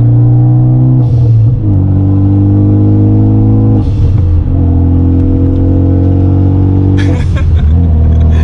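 A Renault Mégane RS 300 with a full exhaust revs and pulls hard, loud close engine drone rising in pitch in three surges, each ending in a brief whoosh at the gear change.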